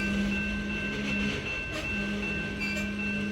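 A CN freight train and a Metra commuter train at Prairie Crossing, where two rail lines cross, give a steady rumble with a sustained metallic tonal hum and faint clanks. No one speaks.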